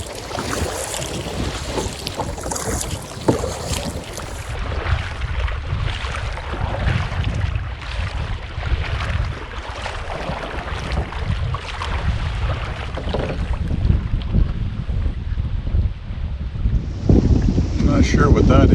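Strong wind roars steadily across the microphone on a canoe trip down the French River's Old Voyageur Channel, with a constant low rumble and rushing water and hull noise throughout, swelling louder toward the end.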